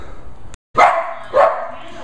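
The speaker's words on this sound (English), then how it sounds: "Doggy." A dog barks twice out in a yard during outdoor ivy-clearing work. The two sharp, fairly loud barks come about half a second apart, close by, with a brief gap of silence just before them.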